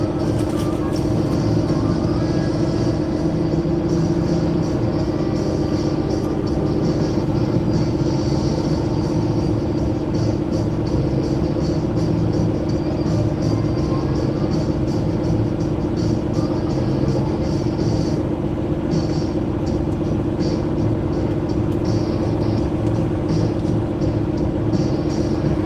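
A Peterbilt truck's engine rumbles steadily while driving, a loud, continuous low drone with road noise running unbroken throughout.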